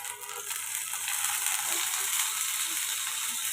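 Eggplant pieces frying in hot oil in a wok, a steady bright sizzle that stays loud and even throughout, with faint stirring noises underneath and no talk.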